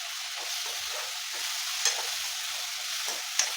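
Tomato fries in a pan for capsicum paneer masala, a soft continuous hiss broken by two small clicks of the spoon, close and faint, with no voices.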